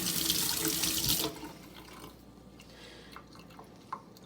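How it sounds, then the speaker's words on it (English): Water runs from a tap over wet sandpaper being rinsed during wet sanding of a primer coat, a loud steady gush for about a second before it cuts off, leaving faint drips and small knocks. "Rinse this off."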